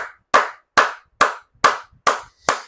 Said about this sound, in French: Ah oui, oui, oui, j'applaudis cela